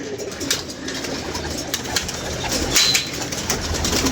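Pigeons kept by a fancier coo softly and repeatedly at close range, with a few brief wing flaps among steady bird chatter and outdoor background noise.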